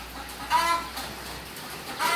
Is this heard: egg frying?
no